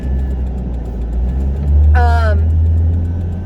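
Red Chevrolet Trailblazer on a road, its low engine drone and road rumble steady inside the cabin, swelling slightly while waiting to merge, with a brief tonal whine in the middle.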